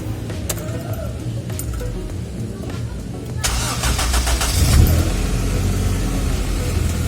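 Honda City Z automatic car engine cranks and catches partway through, then settles into a steady mid-pitched idle to warm up. It is close and fairly loud, with clicks and handling noises before the start.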